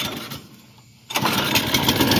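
A small gas engine on a cheap lawn aerating machine catches and starts after a quiet stretch, then runs loud and steady with a rough, busy drone close by.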